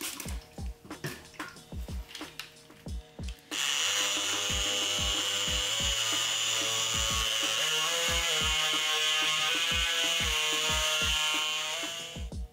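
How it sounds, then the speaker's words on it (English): Wet sanding of a custom 3000GT tail light with 180 grit sandpaper by a power sander: after a few seconds of sharp rhythmic ticks, a loud steady high-pitched whine runs continuously and close up before easing off at the end. "A lot of sanding, spraying with water, sanding, spraying water."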